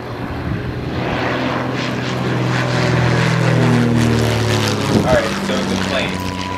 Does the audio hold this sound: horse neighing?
no